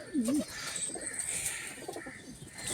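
Pigeons cooing at close range, one clear low coo at the start followed by softer bird sounds and faint chirps over a steady background hum.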